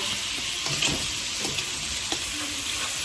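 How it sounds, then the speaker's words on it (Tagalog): Adobo frying in a pan, a steady close sizzle with scattered sharp pops and splatters and light stirring clicks, with no talk. "Ganito pala kahirap yung pagluluto ng lola ko itong matalsik-talusik"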